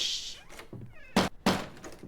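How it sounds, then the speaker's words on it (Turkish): A door slams shut inside a Roblox horror game, two heavy, close thuds landing in quick succession after a stretch of quieter rustling and a faint higher-pitched sound. "Evet yine kapı çarpıldı."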